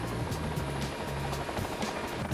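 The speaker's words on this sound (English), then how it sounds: "This is a simulated tail rotor failure, in which the pilots have to practice a technique that allows them to land an aircraft with a failed tail rotor." A helicopter practising a simulated tail rotor failure with a running landing on a runway, its rotor giving a loud, continuous rhythmic chop over a steady engine whine, close by.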